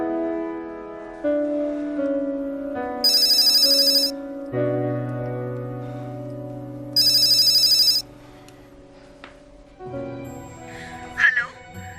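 A telephone rings unanswered in two loud, bright bursts separated by a pause. The rings sit over a steady background tone, and a few softer noises follow afterward.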